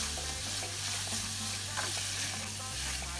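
Beef and onions fry in hot oil while being stirred for a simple beef pilau, a steady broadband sizzle with scraping spoon strokes and a low hum underneath, close and continuous with no talk.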